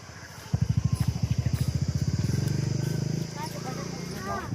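A vehicle pulls up at a zoo, its engine rising from a rhythmic chugging into a steadier drone. It sounds close and loud, with people talking over it.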